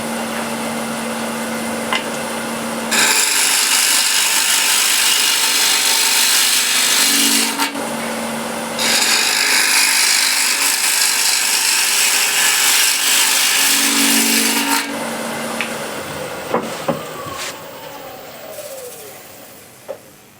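A wood lathe takes the first roughing cuts on an 11-inch wooden plate, loud tearing hiss from the gouge in long passes with short breaks between them, quieter spinning and scraping near the end.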